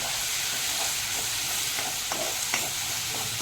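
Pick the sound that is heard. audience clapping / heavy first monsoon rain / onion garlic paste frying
onion garlic paste frying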